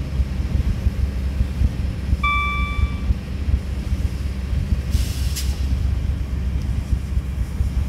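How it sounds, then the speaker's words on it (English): A Class 70 diesel locomotive hauls a container freight train on the North London Line in Train Simulator 2018, with a steady engine rumble, a short two-tone horn blast, and a brief hiss of air later. "This is a container freight train, so no, we don't take on too many passengers."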